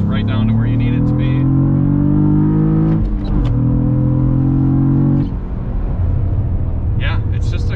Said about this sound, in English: Love having rev match, though. You just drop the gear and it just goes right down to where you need it to be.